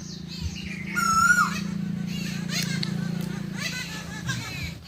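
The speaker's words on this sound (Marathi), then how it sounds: "तिची कू कू ऐकायला तर भेटली" A bird perched in a curry leaf tree gives repeated bright, warbling 'ku ku' calls, fairly close and loud over a constant low droning hum.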